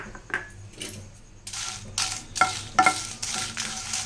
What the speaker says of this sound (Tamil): இதையும் நல்லா வறுத்துக்கலாம் எதுவுமே நம்ம வந்து இதில் எண்ணெய் போட்டு எதையுமே வறுக்கலை வெறும் கடாயில் தான் நம்ம வறுக்கிறோம்